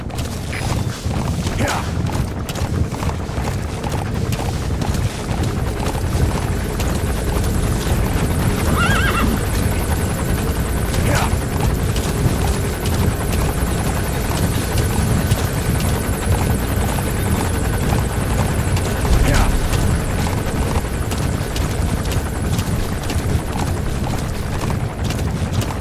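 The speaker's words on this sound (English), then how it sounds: "That's an enemy gunship." Enemy gunship helicopter in Metal Gear Solid V, its rotor thudding continuously and loudly overhead while horse whinnies and hoofbeats sound nearby, with scattered sharp clanks cutting through.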